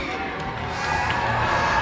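Hockey arena crowd at a Muskies game cheering steadily and loudly, a broad sustained roar with scattered shouts as the team salutes the fans at center ice.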